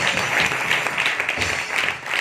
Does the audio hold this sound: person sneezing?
no